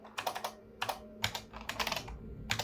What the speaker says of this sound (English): I don't know if you can hear the clicky keys